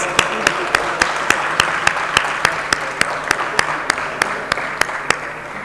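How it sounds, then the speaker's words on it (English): Applause from an audience at the close of an elevator industry summit in India, with sharp, evenly spaced claps standing out over a steady wash of clapping. "ladies and gentlemen, a huge round of applause"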